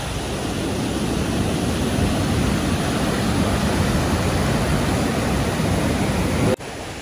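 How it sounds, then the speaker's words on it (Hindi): Heavy monsoon rainwater rushes in a strong, steady torrent on a mountain trek at Harishchandragad, a loud, unbroken wash of noise that cuts off abruptly near the end. "पानी बारिश वारिश जोर से आने लगा, और जो बारिश आई ना ये देखो पानी का बहाव देखो आप कितने जोर से होने लगा।"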